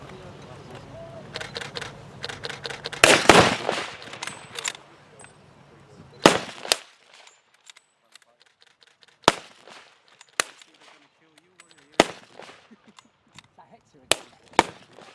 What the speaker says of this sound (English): The Kar 98 was a highly accurate rifle when used effectively. One of its drawbacks was that every time it fired